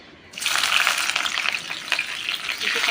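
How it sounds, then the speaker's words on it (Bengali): Chopped garlic and green chillies hit hot mustard oil with a sudden loud sizzle, then keep up a steady crackling fry close by. "তেল গরম হয়ে গেছে দিয়ে দেবো রসুন কুচি আর কাঁচা লঙ্কা"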